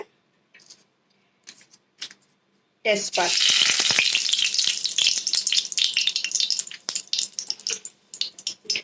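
Bay leaves dropped into hot oil in a wok burst into a loud close sizzle that crackles and spits, then breaks into uneven pops as it settles, after a few quiet clinks.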